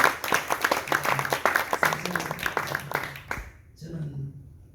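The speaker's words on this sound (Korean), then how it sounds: "다시 한번 박수 치시면" A church congregation at a revival prayer meeting claps together, with dense rapid applause that thins out and stops near the end.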